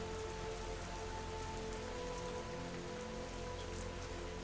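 Steady, dense rain pattering on a surface, a constant even hiss with no pauses and no voices.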